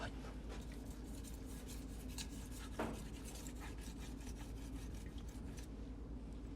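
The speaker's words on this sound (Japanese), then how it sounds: "で最後にまたこの裏のバリを取ります" A Japanese master sharpener strokes a knife blade to remove the burr from its back, making soft, quiet, repeated rubbing and rasping scrapes in a steady rhythm over a low background hiss.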